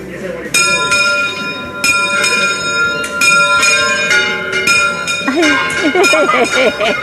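A bell is struck repeatedly, loud and ringing with long metallic overtones, each strike layering onto the last, while voices speak over the later strokes.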